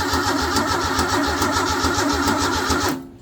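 A 1953 Ford 4x4 engine cranks over with a rapid, rhythmic starter churn, loud and close, cutting off abruptly near the end without firing.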